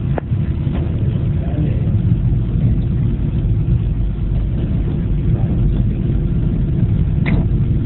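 Atlas rocket engine roaring at reduced throttle during ascent, a dense, steady low rumble heard from a distance with no variation across the stretch.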